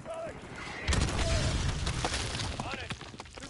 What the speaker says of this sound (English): Watch out, they're firing more artillery back to us.